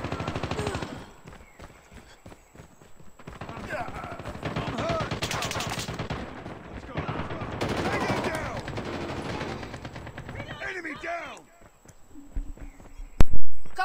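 Rapid gunfire bursts and scattered shots from a clan war video game, running steadily throughout beneath excited voices, with a louder burst near the end.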